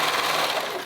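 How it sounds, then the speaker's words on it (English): A sewing machine stitches a cardigan cuff while the fabric is stretched to fit, giving a continuous, steady mechanical whir that stays loud and even, then trails off slightly at the end. "I'm sewing my cuff, I'm kind of stretching it to fit a little bit."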